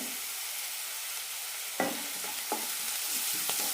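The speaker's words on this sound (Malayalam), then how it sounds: "നന്നായി വഴറ്റി കൊടുക്കാം ഒരു മിനിറ്റ് നന്നായി വഴറ്റിയാൽ മതി" Onions and curry leaves sautéing with mustard seeds and a pinch of salt in a pan, a steady hiss of sizzling oil with a few sharp spatula scrapes and clacks arriving in the second half.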